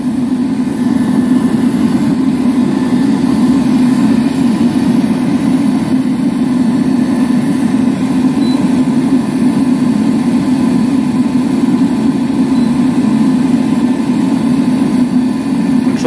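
An eBay parking heater (Standheizung) runs with a loud, steady combustion roar and fan drone, heard close and unbroken as it increases power, with no voices.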